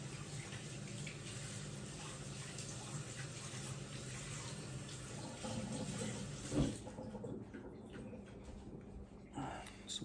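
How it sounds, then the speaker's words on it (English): Tap water running steadily in a kitchen sink while a Miyabi Mizu Kiritsuki Japanese knife is rinsed after whetstone sharpening, a soft continuous hiss with a clink near the end as the flow stops. "Just washing off the knife"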